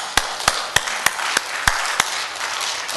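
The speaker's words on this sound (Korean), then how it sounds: "우리 박수 한번 하십시오." A church congregation clapping during a Korean sermon, heard as a series of sharp, separate claps at a roughly regular beat, about eight in total, over a faint room murmur.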